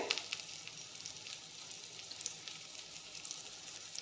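Chicken pieces frying in refined oil over a low flame, a steady soft sizzle and crackle with small pops, fairly quiet and close, with no voices.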